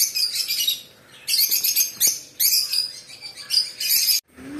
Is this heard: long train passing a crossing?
no